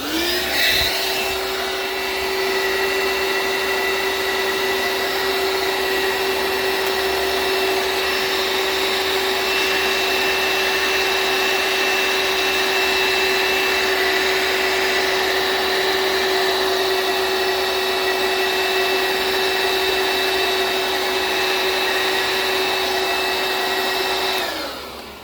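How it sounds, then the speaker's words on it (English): A vacuum cleaner drones steadily and loudly while clearing a mouse nest out of a free lawnmower's engine, a constant whine with a sustained tone held for about twenty-five seconds, with no talking. "Let me just get my vacuum."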